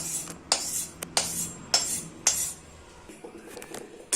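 Roasted sambar powder spices stirred together with a metal spoon, giving a series of sharp, close clinks and scrapes against the vessel at an irregular pace.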